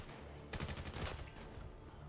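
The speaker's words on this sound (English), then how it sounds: "So much more gunfire" A quiet, distant burst of rapid gunfire rattles for about a second during a competitive first-person shooter match, set against a low steady game ambience.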